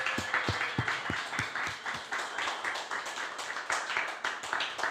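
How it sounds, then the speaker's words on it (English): Applause from an audience at a regenerative-themed festival day in Croatia: a few distinct near claps at first, then many hands blend into a dense, even clapping that carries on steadily. "Can we give them a round of applause?"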